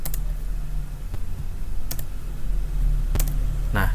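Keys clatter on a computer keyboard in steady, close typing, with a few sharper clicks standing out over a constant low hum.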